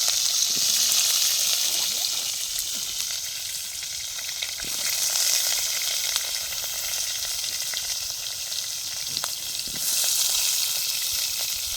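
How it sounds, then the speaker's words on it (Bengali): Oil sizzles and crackles steadily as potatoes fry in a pan at an outdoor picnic beside the Sundarbans forest, a constant close hiss with occasional faint scrapes and no talking. "আলুটা ভেজে নিচ্ছে"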